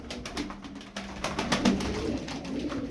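Arabian tumbler pigeons give low, repeated coos close by, with soft rustling and scattered bird calls in the background and no talking.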